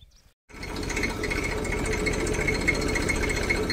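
A Massey tractor's diesel engine starts up after a brief silence and then runs steadily with a low, thrumming rumble and light rattling at a farm in Rajasthan, loud and close with no talk.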